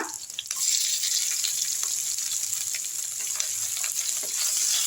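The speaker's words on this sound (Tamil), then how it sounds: "நல்லா வதக்கி விட்டுருங்க அடுத்து வெங்காயத்தை போட்டுருங்க" Onions and curry leaves frying in hot oil for a chow chow kootu, a steady bright sizzle that swells just after the start and holds loud and close, with faint occasional stirring and no voices.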